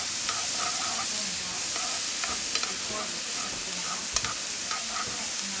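Garlic fries in oil in a paella pan while being stirred, giving a steady close sizzle with occasional scrapes and light taps of a spatula against the pan.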